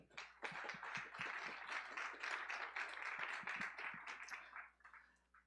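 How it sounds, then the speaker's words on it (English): An audience at the Venture Challenge 2024 pitch event claps for the angel investor judges, a lively burst of many hands with distinct sharp claps near the front that swells, holds, then tapers off. "let's give them a round of applause"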